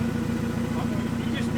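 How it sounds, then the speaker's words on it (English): A turbocharged Honda K20 engine in a Mk2 Ford Escort runs without an exhaust, a loud, raw, steady drone with a rapid pulsing beat, heard close up the whole time. "It just sounds like it hasn't got an exhaust on it"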